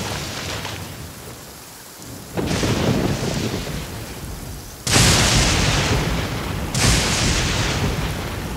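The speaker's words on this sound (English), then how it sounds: "Fucking lightning's everywhere, goddamn." Heavy rain pours steadily through a thunderstorm in a military shooter game, with loud broadband thunder cracks booming in at intervals and the downpour swelling between them, no voices over it.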